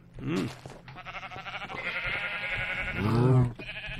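Cows in modded Minecraft 1.7.10 give drawn-out moos close by, two long calls over a steady low background hum.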